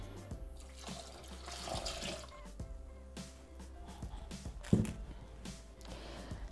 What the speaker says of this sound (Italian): Aggiungiamo adesso l'acqua.